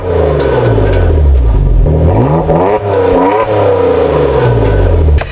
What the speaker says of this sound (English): Here is the 3-litre V6 that you'd also find in the Macan S. However, this one has a more aggressive tune